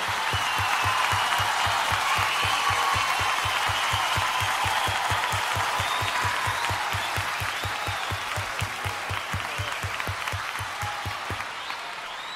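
Audience applause for a singer at a live concert, a broad, sustained wash of clapping over a steady, rhythmic low thump, slowly fading toward the end.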